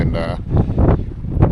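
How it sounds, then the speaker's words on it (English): Strong wind buffets the microphone on a high mountain trail in Alaska, a loud low rumble in gusts, with a person speaking briefly over it. "the camera's probably picking up the wind."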